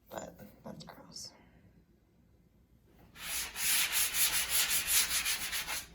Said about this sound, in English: Step 1, sand.